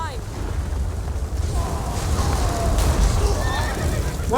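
Video game horse whinnying loudly, a high wavering neigh rising over a dense rumbling game soundscape, with a second whinny cutting in right at the end.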